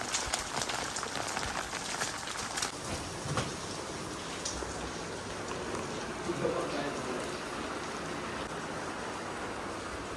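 Heavy monsoon rain pours down steadily nearby, a dense continuous patter and wash with a few louder splashes, no speech over it.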